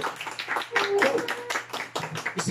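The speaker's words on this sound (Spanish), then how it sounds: "Un aplauso para ella, bien bonito." Audience at a Mother's Day mariachi show clapping in a short, uneven burst of hand claps, close and moderately loud, with a voice briefly mixed in.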